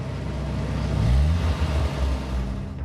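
A car engine roars with the accelerator floored on a desert road, a loud close rumble that swells and holds with no talk over it.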